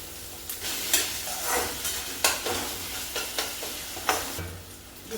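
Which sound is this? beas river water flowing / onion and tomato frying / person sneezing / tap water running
onion and tomato frying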